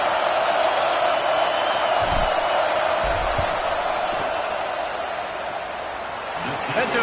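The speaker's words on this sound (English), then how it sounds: "This crowd trying to do its part to get inside the kicker's head." A roaring stadium crowd fills a college football video game, Clemson versus Florida State, as a steady dense wash of noise with occasional thuds, loud and continuous beneath commentary talk.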